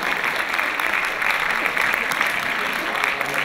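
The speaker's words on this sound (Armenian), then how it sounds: "Ձեր ծափահարությունները մեր տղաներին։" An audience applauds at a dance ensemble concert in Yerevan, dense clapping from a large crowd, steady and fairly loud throughout, with a voice heard over it.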